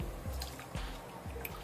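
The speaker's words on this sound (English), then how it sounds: "What I'm going to do is just take the wig and begin submerging it into the water." A human hair wig being dipped into a basin of water, giving soft close drips and wet squishes in a slow, uneven rhythm.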